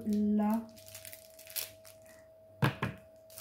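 A taped package from a Temu unboxing is opened by hand, with a few faint crackles and tearing sounds of tape and cardboard. Two sharper rips come near the end, while a quiet voice is heard at the start.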